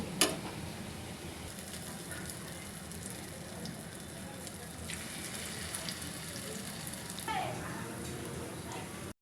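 Onion fritters (peyaju) frying in hot oil, a dense steady sizzle and crackle running throughout, close and even, with a few faint clinks and a voice talking quietly over it.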